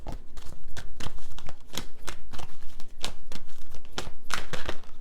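Tarot cards being shuffled by hand, a rapid run of crisp riffling and slapping bursts in a steady rhythm, close and clear with no talking.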